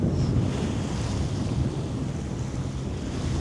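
Steady wind gusting at sea off Scotland's west coast, roaring continuously across the microphone with surf and water wash beneath it, loud and unbroken throughout, no voices.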